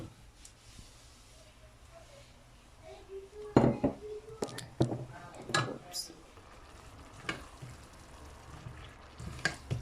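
Cut potatoes are stirred in a pan while sautéing, with a spatula clinking and scraping against the metal in irregular bursts over a quiet, low sizzle.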